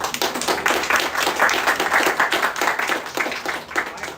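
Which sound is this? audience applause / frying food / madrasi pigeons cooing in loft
audience applause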